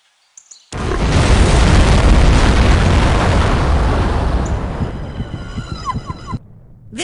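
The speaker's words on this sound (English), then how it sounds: "there was an explosion of unknown origin" In the video game No One Lives Forever, an explosion bursts after a brief quiet, a loud, close boom that rolls on as a long rumble for several seconds and then fades into faint background sounds.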